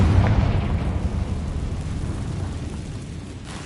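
Cast in Hogwarts Legacy, the Confringo blasting spell sets off a deep, heavy explosion that starts with a strong low thump and fades into a long rumbling tail, followed by a faint crackle at the end.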